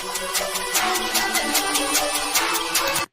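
The intro of an electronic track: dense music with a steady rhythmic pulse of bright hits over sustained layered tones, loud and continuous, cutting off abruptly at the end.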